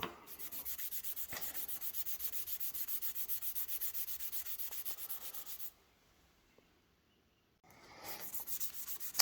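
A wet WD-40 pad scrubbing surface rust off a Mopar 361B engine part: steady, close, rhythmic rubbing strokes with a rasping texture, a short silent pause, then the scrubbing resumes.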